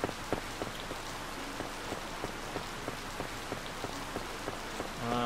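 Soft, steady rain falls in the Harvest Moon Light of Hope video game, an even patter with small drop taps, faint and on its own with no voices.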